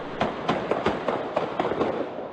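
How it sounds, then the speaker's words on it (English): A rapid series of sharp gunshot pops and cracks after a scuffle, roughly a dozen in quick irregular succession, sounding somewhat distant amid background noise in recorded footage from Houston. "A scuffle starts, and then you hear gunshots."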